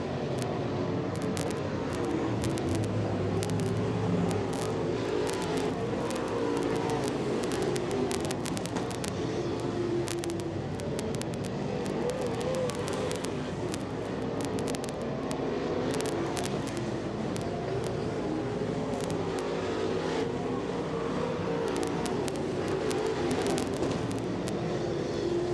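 Race cars roar around the track in a championship points race, a continuous dense engine drone with rising and falling passes heard from trackside at a distance, with no talk audible.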